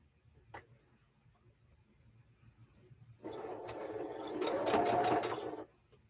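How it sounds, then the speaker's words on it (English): A sewing machine stitches quilt block pieces together into a nine-patch center for a Woven Star block, starting after a quiet pause and running steadily for a few seconds at close range before stopping. "So now I'm going to sew this and this together."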